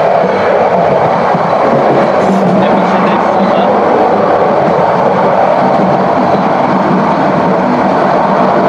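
The Subarna Express, a non-stop train from Chattogram to Dhaka, rumbles loudly at speed with a steady, dense roar and faint clatter of the carriage, while someone talks over the noise.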